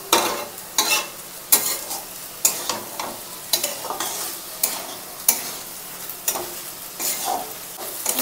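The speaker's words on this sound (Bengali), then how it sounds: "দিয়ে চালটাকে দিয়ে একটুখানি ভালো করে একটু নাড়বো, যাতে মশলার সঙ্গে চালটা খুব সুন্দর মিশে যায়" Rice and spices are stirred in a pot, producing repeated close scraping strokes at a steady rhythm over a light sizzle.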